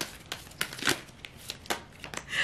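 Uno playing cards being shuffled by hand, a string of soft crisp riffling and flicking bursts, close and fairly quiet, with no talking over them.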